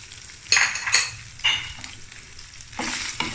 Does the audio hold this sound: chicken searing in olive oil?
yes